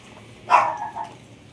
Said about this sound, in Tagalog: Kahol ng kahol.